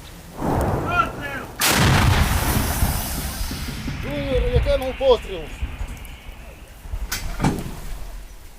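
A Ukrainian artillery crew fires from a vehicle on the battlefield: one sharp, loud blast rings out close by, followed by clanking and metallic handling sounds, another heavy thud and a voice in the background.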